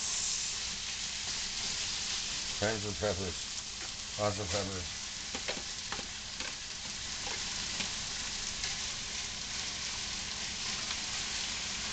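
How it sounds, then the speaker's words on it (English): Chicken sizzles steadily and loudly in a hot frying pan, a constant crackling hiss while a person speaks briefly over it. "It's starting to sizzle."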